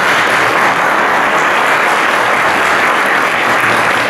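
A seated audience at a reunion gathering with former session musicians of a band claps in loud, dense, sustained applause throughout.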